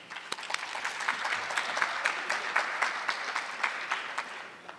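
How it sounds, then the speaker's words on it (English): Audience applause at a university draft showcase event, a steady wash of clapping from a large crowd lasting several seconds, with distinct claps popping out of the dense texture throughout. "Let's give another round of applause for our commissioner for leading us into tonight's event."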